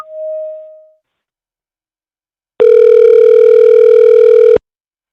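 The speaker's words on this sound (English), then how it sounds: "Okay, we're going to make a phone call." A phone call being placed: a brief electronic beep, a pause of silence, then a loud, steady ringback tone held for about two seconds, with no voices.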